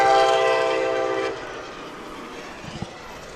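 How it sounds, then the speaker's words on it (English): A train whistle sounds at a high school varsity football game, a loud sustained horn blast that cuts off after about a second, leaving a low rumbling background with faint thumps. "When I hear that whistle, that's usually when we score."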